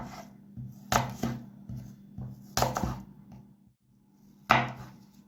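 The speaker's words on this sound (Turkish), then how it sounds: "Salata, salatalığı da şu şekil ince ince doğruyoruz." Thin slicing of cucumber with a knife on a cutting board, three sharp loud chops plus a run of softer taps, close and with no voices.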